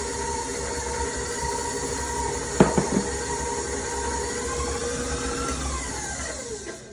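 A stand mixer runs on low speed, working flour and butter together for chicken flour cracker dough. Its steady motor hum drones throughout, with a few brief clunks partway through and a slight fade near the end.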